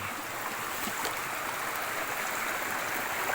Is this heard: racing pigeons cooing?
no